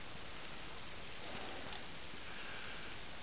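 Heavy snow falls steadily over a night camp in small flakes, a soft continuous hiss of settling snow with a faint patter that stays even throughout, with no voices.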